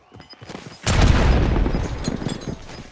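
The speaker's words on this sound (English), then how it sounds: "Tossing frag. Grenade." A frag grenade blows up in a video game with a loud, sudden boom, followed by a rumbling, crackling decay that lasts several seconds.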